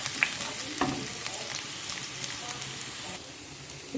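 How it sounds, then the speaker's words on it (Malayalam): Ginger and garlic frying in oil in a pan for pickle, a soft continuous sizzle with occasional spoon scrapes and stirring clicks, fairly quiet and close. "ഇഞ്ചി, വെളുത്തുള്ളി ഇട്ടിട്ട് ഒന്ന് മൂപ്പിച്ച് പച്ചമണം മാറുന്നിടം വരെ ഒന്ന് മൂപ്പിക്കാം."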